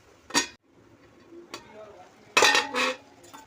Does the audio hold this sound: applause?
no